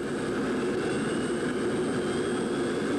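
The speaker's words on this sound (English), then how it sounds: "I got a rare chance to fly in one of their F-16s" Steady, loud jet roar of an F-16 fighter, heard from close by as a broad continuous rush with a faint high whine, no talking.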